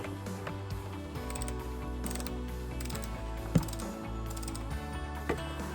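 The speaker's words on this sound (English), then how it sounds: "The torque wrench, what is it, 10 Newton meters?" A torque wrench set to 10 newton-metres ratchets bolts tight on rear pannier holders for a 2021 KTM 1290 Super Adventure S, with rhythmic mechanical clicks under steady background music and one sharper click partway through.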